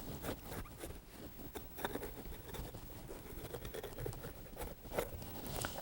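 A knife cuts the top off an autumn pepper, soft close crunching and tearing in a series of small rustling strokes, quiet and without talking.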